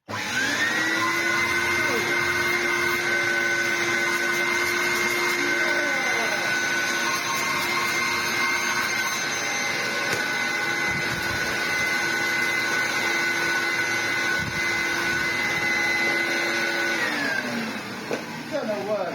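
A 1998 Dyson DC01 vacuum cleaner runs with a loud, steady motor whine and airy rush held close by for most of the time, then winds down near the end.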